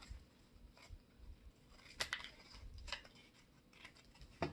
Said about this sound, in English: take your scissors and cut those off.